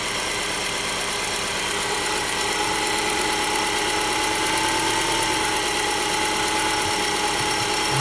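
A car with an EL15 engine that has a knock runs steadily at around 1000 rpm, a loud, continuous close-up engine drone with a dense, buzzy texture and no voices.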